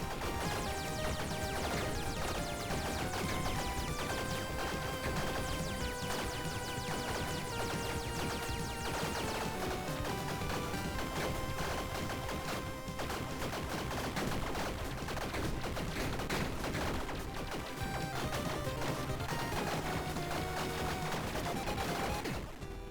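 Bombs going off repeatedly in the game Tiny Rogues, a relentless dense barrage of crackling blasts layered over loud game music, sustained without pause for over twenty seconds.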